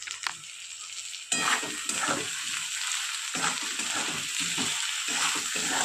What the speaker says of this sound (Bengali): দিয়ে এবার খুব ভালো করে কষিয়ে নেব